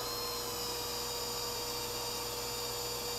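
Power drill boring a pilot hole into a broken wheel stud on a car, a steady, continuous high-pitched whine held at a constant level throughout.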